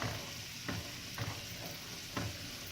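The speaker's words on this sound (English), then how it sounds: "I'm frying fish along with it." Fish frying in a pan gives a steady, soft sizzle, broken by a few brief scraping stirs.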